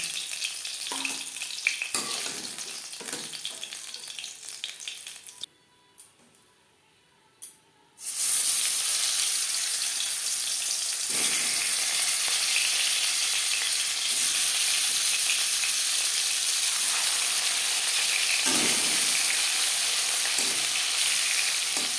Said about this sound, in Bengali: পরের মাছ একইভাবে ভেজে নেব